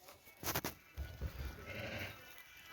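Newly arrived sheep give a few short, quiet bleats in a calm setting, a couple of brief calls close together early on, then faint shuffling.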